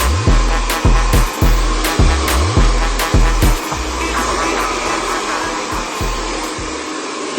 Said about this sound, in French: sur votre sèche-cheveux, normalement vous devez avoir un mode froid